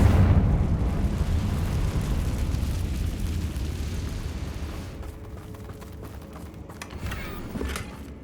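A Confringo fire spell explodes in Hogwarts Legacy, a loud, rumbling blast that opens at full force and fades over several seconds into a low roar, with scattered crackles and debris clatter near the end.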